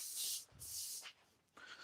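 An airbrush sprays acrylic onto plywood in three close hissing bursts separated by brief pauses, loud and airy with no talk.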